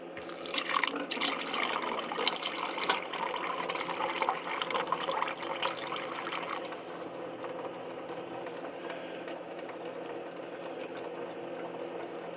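Distilled liquid poured into a wet coffee filter during a copper purification cell harvest, a steady trickling pour that eases into quieter draining and dripping.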